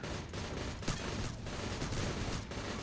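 Rapid submachine gun fire in the sci-fi shooter game Shattered Horizon, a continuous dense rattle of shots over busy game noise for a few seconds, with one sharper report standing out.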